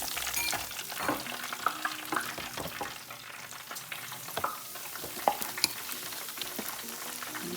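Shrimp fry in hot oil with a constant crackling sizzle, scattered sharp pops and occasional stirring clatter, close and steady throughout.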